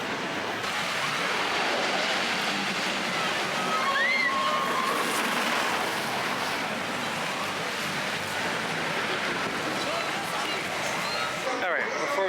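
Water runs steadily through the Snake River Falls water ride at Cedar Point amusement park while the ride is not operating. The rushing, splashing flow stays constant and fairly close, with a voice speaking over it.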